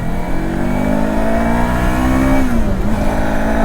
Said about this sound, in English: acceleration out the corners is what motorcycling is all about